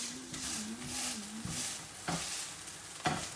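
A batch of noodles sizzles and fries steadily in a frying pan during a Chinese New Year home cook-along, with occasional stirring clinks and scrapes and no talking.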